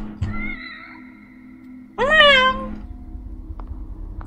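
Cat meowing in the video game The Evil Within: The Assignment, two drawn-out meows, the second louder and rising then falling, over a low game hum with faint clicks.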